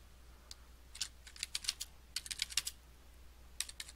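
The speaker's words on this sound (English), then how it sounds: "Okay, and let's type something in." Computer keyboard typing comes in quick, close bursts of crisp keystrokes separated by short pauses. No one speaks.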